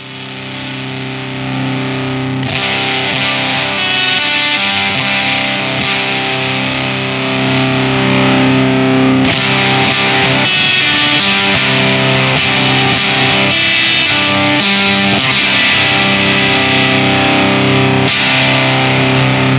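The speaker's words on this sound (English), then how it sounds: "You can hear it's a really like clangy and kind of just a really unique fuzz" Heavily fuzzed electric guitar playing loud chords and riffs, with a thick, clanging distorted tone that rings out continuously.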